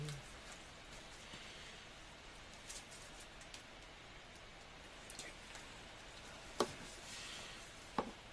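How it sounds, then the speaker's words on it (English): Rain falling in Tokyo, a faint, even patter with a few sharper drips standing out near the end, heard quietly from indoors. "I'm waiting for the rain to pass by."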